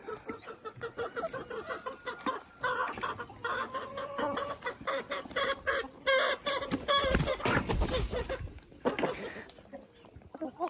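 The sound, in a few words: chickens clucking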